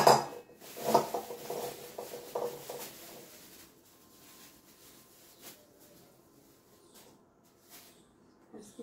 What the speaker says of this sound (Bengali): এখন আমি ভেন্ডিগুলো কাটবো।